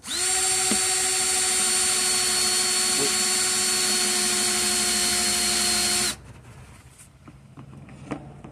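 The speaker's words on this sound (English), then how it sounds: "I got my hole drill right there" A power drill with a hole saw, run in reverse, whines loudly and steadily for about six seconds while cutting into a bucket, then stops, leaving quiet with a few faint clicks.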